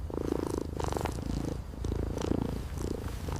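A kitten purrs close up, a rhythmic rumbling that rises and falls with each breath, steady and fairly loud with no voices.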